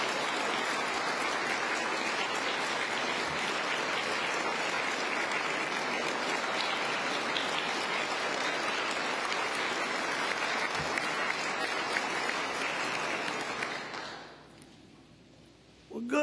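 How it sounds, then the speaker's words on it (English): A large audience gives the governor of Alabama sustained applause that lasts well over ten seconds at an even level, then fades near the end. "applause for this lady is always in order"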